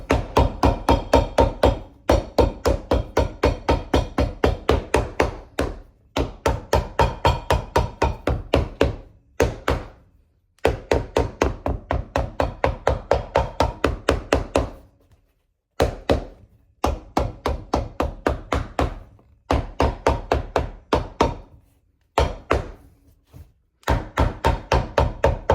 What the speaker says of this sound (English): then we're gonna hammer it all down securely.